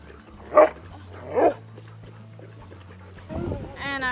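A service dog in a back garden gives two sharp barks, then whimpers and yips close by while a person talks.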